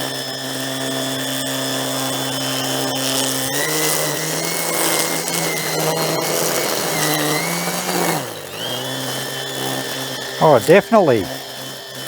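Makita DUR189 cordless grass line trimmer running steadily under load, its motor whine dipping and then surging back as the speed adjusts, with a brief spoken remark near the end.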